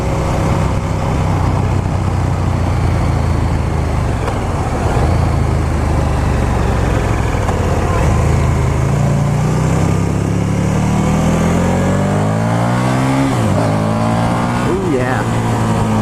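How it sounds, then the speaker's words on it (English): A KTM 1290 Super Duke R motorcycle engine drones with a deep, throaty exhaust note, then revs up and down with rising pitch toward the end. "You gotta love the exhaust note on this thing."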